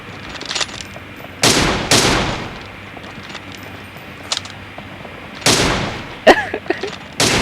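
Gunfire in a battle video game: scattered sharp shots and short bursts ring out alone at varying distances, some loud and close, others fainter, with brief quiet stretches in between.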